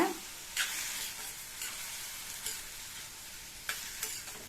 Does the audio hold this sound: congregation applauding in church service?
no